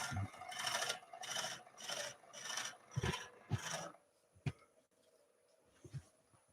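Gouge cutting into a spinning yew hollow form on a lathe, a run of rhythmic rasping scrapes close up, then quieter scattered knocks and scratches.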